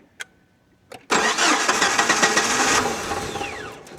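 A 1998 Jeep TJ Wrangler running off a jump box, with its battery disconnected, cranks briefly after a couple of faint clicks, then catches and settles into a loud, steady idle close by.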